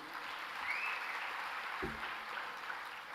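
Steady audience applause at a large Tamil debate event (pattimandram) in Bahrain, a dense even wash of clapping held at moderate level throughout, with a single brief low thump partway through.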